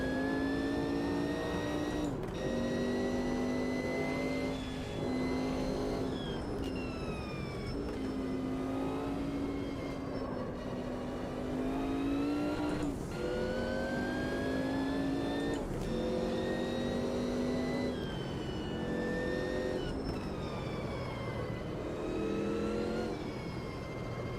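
Group C race car engine in Automobilista 2, loud and close, revving up through the gears again and again with sharp shifts and rising whine, continuous for the whole stretch.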